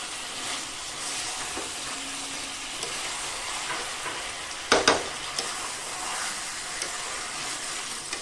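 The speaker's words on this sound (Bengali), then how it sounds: "গ্যাসের ফ্লেমটা কিন্তু হাই রেখে মাংসটাকে কষিয়ে নেব" Chicken sizzles as it is stir-fried with spices over a high gas flame for a light chicken curry, a steady close hiss with a sharp clatter of stirring near the middle and a few softer scrapes.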